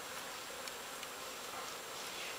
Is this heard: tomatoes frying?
no